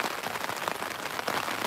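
Steady rain falls on the water at Martham staithe on the Norfolk Broads, a dense, even patter of drops with no break, close by and fairly loud with no voices.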